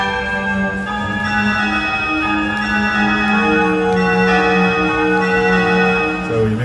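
Sustained synthesized bell tones from a CME X Key keyboard ring together in a dense, steady chord, loud and continuous with shimmering overtones and no pauses.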